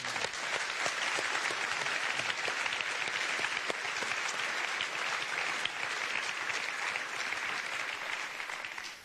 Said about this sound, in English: we would offer a warm round of applause